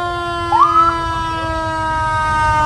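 Naperville Fire Department fire engine in an India Day parade, its siren sounding a single rising whoop that settles into a steady tone over a constant drone of music or horns, moderately loud and unaccompanied by talk.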